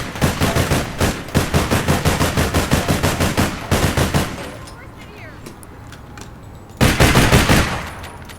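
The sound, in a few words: SR-15 rifle firing a magazine in video game APB Reloaded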